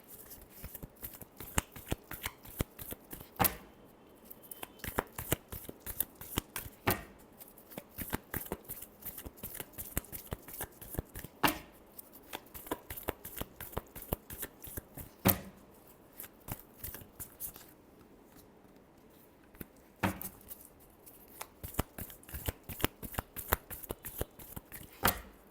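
Tarot cards are shuffled by hand for a reading, producing close, continuous riffling and snapping flicks in a quick irregular rhythm that runs throughout with no talking.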